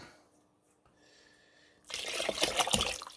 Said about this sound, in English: We got some chili, bean juice. We'll add some of that.